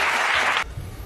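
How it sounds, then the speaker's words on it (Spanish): Applause from a studio audience fills the first half second as a loud, dense wash, then cuts off abruptly into quiet room tone. "Yo creo que esto merece un aplauso"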